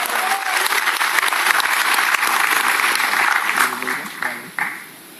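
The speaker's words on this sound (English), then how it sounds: "Huge round of applause" A conference audience claps loudly at an Android announcement, dense applause that holds steady then thins out and fades, with a voice speaking over the tail.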